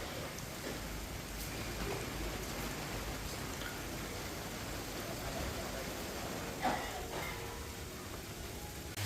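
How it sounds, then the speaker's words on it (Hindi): Heavy rain falls steadily outside a home kitchen, a dense continuous hiss of drops with faint occasional splashes, even and unbroken throughout. "लो जी बारिश आ गई है पूरे जोरों शोरों से।"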